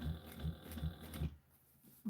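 An 8700H industrial sewing machine stitches fabric in a close, quiet run of even rhythmic thumps that stops after about a second, followed by a short faint click.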